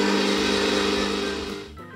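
An electric mixer kneads yeast dough for Croatian fried dough pastries, its motor humming loud and steady, then easing slightly and fading as it slows near the end, with no voices.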